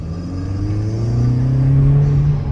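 A car engine drones and gradually builds as it accelerates, a steady rising hum with audible intake noise, heard from inside the vehicle.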